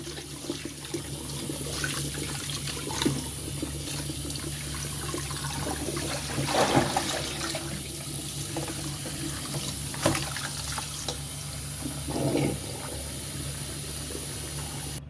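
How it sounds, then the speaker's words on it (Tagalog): Running tap water splashing into a sink while pork bones and meat are rinsed and handled, with intermittent clunks and sloshes over the steady flow. "hugasan po natin yung mga buto-buto at saka karne ng baboy"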